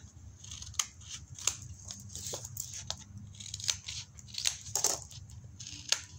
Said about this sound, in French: Bien entendu, je viens couper les angles.